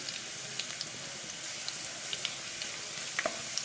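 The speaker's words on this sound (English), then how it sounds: "Fry the garlic for a couple of minutes." Garlic and bay leaves fry in hot oil with a continuous bright sizzle and occasional small pops and crackles, steady and close throughout with no talking.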